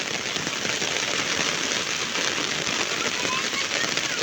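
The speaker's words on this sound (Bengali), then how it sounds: "কিরকম বৃষ্টি দেখার নিচে পানি জমে গেছে" Heavy morning rain pours steadily on a street with pooling water, a dense, loud hiss of drops hitting surfaces throughout, with no break in the downpour.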